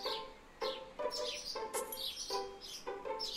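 Birds chirp in the Fate/Stay Night visual novel game, a soft, steady run of bright repeated tweets and short calls about twice per second, fairly faint and heard alone.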